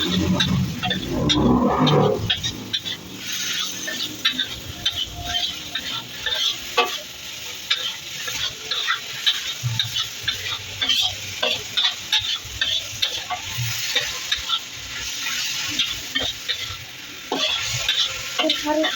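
Potatoes and peas sizzle and fry in a pan for tava pulav while being stirred, with a steady close hiss and scraping spoon strokes throughout and a louder burst near the start.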